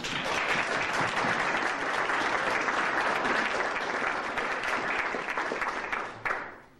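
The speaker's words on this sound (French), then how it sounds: "On devrait l'applaudir, notre grand-maman Sainte-Anne" A church congregation at a Saint Anne retreat breaks into sustained applause for Saint Anne, a full, steady wash of clapping that holds level and then tapers off near the end.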